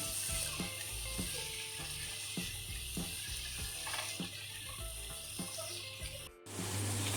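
Potatoes frying in a pan for masoor pulao, a steady hiss of sizzling oil with repeated soft scraping and stirring knocks at a loose rhythm, briefly dipping near the end, no voices.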